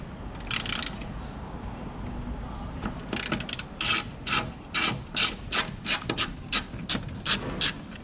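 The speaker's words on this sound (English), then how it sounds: "Here is a 13 millimeter socket. We loosen this one." A 13 mm socket wrench ratchets in quick, evenly spaced clicks while loosening a bolt in a Tesla Model X frunk, following an earlier scrape, close and fairly loud.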